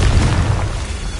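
A loud, dense Confringo fire-blast explosion spell from Hogwarts Legacy gameplay, one continuous booming burst filling the whole moment with heavy low rumble and no talking.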